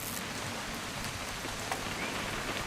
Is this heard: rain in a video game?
yes